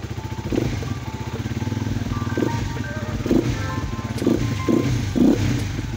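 A Rusi Flame 150X motorcycle engine, running again after a faulty-wiring repair, idles nearby with a steady pulsing putter and occasional louder blips, a voice faintly present in the background.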